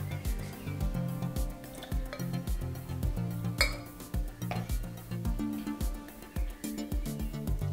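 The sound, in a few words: stirring coffee in an Aeropress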